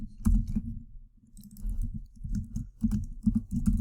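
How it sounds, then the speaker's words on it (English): Bursts of soft keyboard tapping come in uneven clusters, with short pauses between runs of keystrokes, close and fairly quiet. "Please excuse my horrid typing right now."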